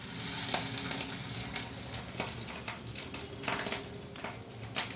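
Fish roe fritters fry in oil with a soft, steady sizzle and faint occasional crackles, without any talk.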